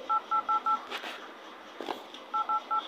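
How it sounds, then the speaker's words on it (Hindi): Dial pad tones on an itel Vision 3 phone while a number is dialed: four quick evenly spaced keypad beeps, then a gap with faint tapping, then another run of four beeps, clear and close. "नंबर डायल करने पर आपको एक साउंड सुनाई देगा"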